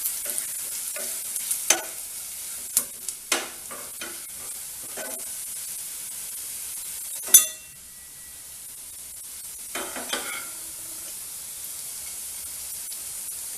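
Garlic fries in oil in a pan with coriander and cumin, giving a continuous close sizzle. A spoon scrapes and taps against the pan in scattered stirs, and one sharp clatter stands out partway through.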